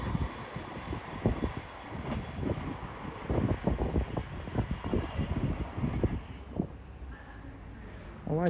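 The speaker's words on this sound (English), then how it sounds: "Soon to pass through now will be a Thames Express going from Cambridge to Brighton." A Cambridge to Brighton passenger train runs through a station, its wheels clattering in a rapid rhythmic series of thumps over the rail joints as it passes close and loud, with wind buffeting the microphone and the noise fading toward the end.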